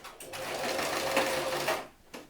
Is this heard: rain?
no